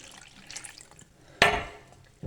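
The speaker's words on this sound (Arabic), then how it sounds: "وبعد كده بحط كوباية اللبن" Milk poured from a cup into crepe batter in a home kitchen, a single close, bright splash of liquid that starts abruptly and trails off over about a second, following quiet handling sounds.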